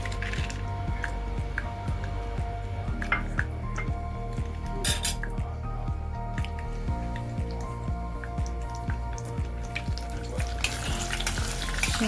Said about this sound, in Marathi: कढई गरम झालेली आहे, आता आपण तेल टाकून घेणार आहे।